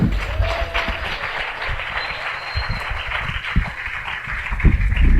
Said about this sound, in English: Let's give a big round of applause for Sean Dunne.